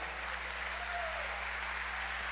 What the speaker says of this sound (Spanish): Le da un aplauso al Señor.